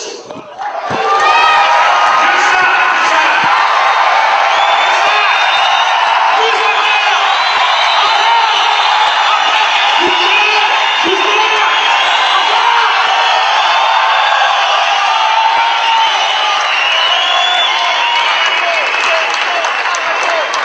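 A large indoor audience claps and cheers in a sustained, dense burst of applause that swells quickly and holds at full strength for the whole stretch, with shouts mixed in.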